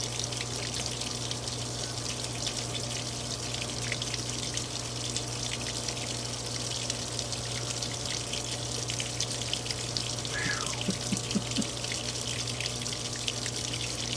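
Water runs steadily into a washing machine tank, a continuous faint hiss and trickle with a low machine hum beneath, no voices.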